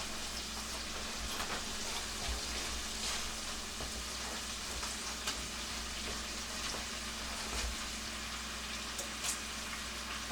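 Steak sizzles and fries in a pan alongside nearly cooked bacon, a steady dense crackle and hiss with small pops throughout, no voices over it.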